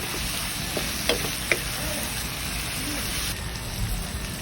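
Chicken binagoongan sizzling and frying in a pan while being stirred, a continuous crackling hiss with a few sharp scrapes and clinks of the utensil against the pan, close up.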